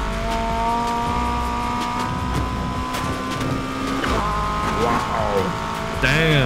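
In Need for Speed Heat, a max-build Volkswagen Golf GTI accelerates hard, its engine climbing through gears with a shift and a brief squeal near the end, loud and continuous while a man gives short exclamations.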